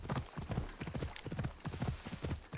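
Horse hooves clip-clop steadily at a walking pace through a city street in Assassin's Creed Odyssey, a continuous rhythmic clatter close up and fairly loud.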